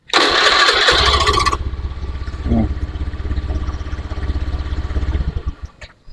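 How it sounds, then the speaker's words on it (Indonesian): A fuel-injected motorcycle engine fires up with a loud starter burst, then settles into a steady, close idle before cutting off near the end. "Sekarang saya akan hidupkan motornya."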